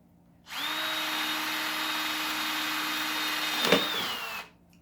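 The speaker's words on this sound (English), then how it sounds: "you got to drill a hole in this guy." A power drill whirs at a steady high pitch for about four seconds, close by, drilling a hole in a bucket, with a brief scraping burst near the end before it winds down.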